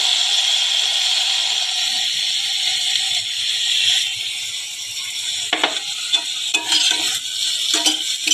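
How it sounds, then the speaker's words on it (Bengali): Spice masala with a little water is stirred and fried in a pan for brown rice biriyani, giving a hissing sizzle at first, then a quieter simmer broken by several sharp scraping clicks of a spoon against the pan. "এবার এটা নাড়াচাড়া করে সামান্য জল দিয়ে আমি মশলাটা ভেজে নেব।"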